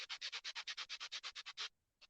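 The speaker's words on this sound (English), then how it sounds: "So I like to just take a little bit of a sander, just a sanding block." Rapid back-and-forth rubbing of a fine 220-grit sanding block, about fifteen quick even strokes, close and clear, then a brief pause and one last short stroke.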